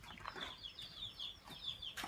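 Chicken chicks peep repeatedly in a busy, high-pitched chorus, short calls overlapping at a steady pace, with soft scratchy rustling beneath.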